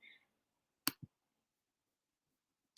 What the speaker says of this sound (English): I do have my Morticia Addams embroidery scissors ready to go,